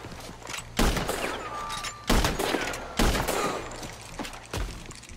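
Gunfire in the Western video game Red Dead Redemption 2, with several loud, sharp shots in separate bursts and a brief clatter between them, heard close and without speech.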